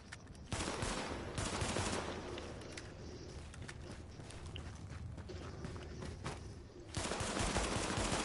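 Gunfire in the shooter The Division, sustained automatic bursts that start abruptly, ease off into a rattling middle stretch, then return loud and close near the end, with no talking.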